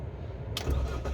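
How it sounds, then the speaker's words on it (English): A 2004 Mini Cooper R50 with its 1.6 engine cranks briefly and catches, then settles into a low, steady idle rumble close by. "I want to show you the sound of the engine"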